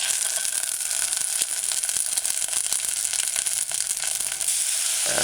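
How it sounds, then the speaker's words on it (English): Chopped scallion sizzles in hot oil while being stir-fried for a vegan bok choy soup, a steady, bright, hissing crackle heard close up with no talking. "After stir frying the scallion"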